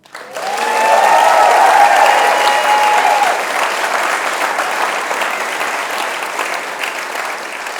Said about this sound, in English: could we make a huge applause for our amazing ensemble?